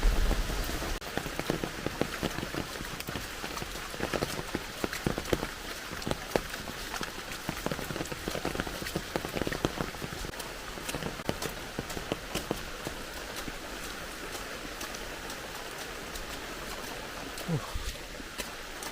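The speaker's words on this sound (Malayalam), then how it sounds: "ഭയങ്കര മഴയാണ്, ഭയങ്കര വെള്ളമൊഴുക്ക്." Heavy rain pours steadily on nearby surfaces, a dense close patter with sharper drips and splashes throughout, while people speak intermittently underneath.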